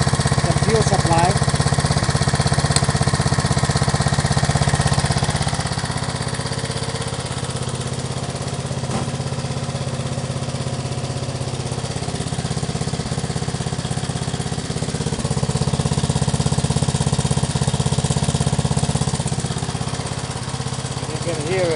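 An 8hp lawnmower engine running on an HHO dry cell idles loudly and continuously nearby, a steady buzzing putter whose tone shifts slightly partway through.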